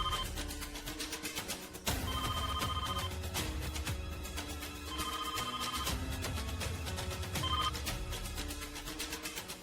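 A telephone rings in repeated bursts of bright electronic tones over background music, each ring pattern recurring every couple of seconds at a steady, prominent level.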